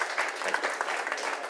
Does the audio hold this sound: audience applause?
yes